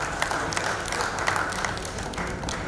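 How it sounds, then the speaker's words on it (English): An audience at an education forum claps in a steady, dense patter of hands that carries on without pause. "Please big round of applause for him."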